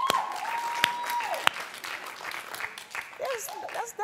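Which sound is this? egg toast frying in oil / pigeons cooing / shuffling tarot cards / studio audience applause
studio audience applause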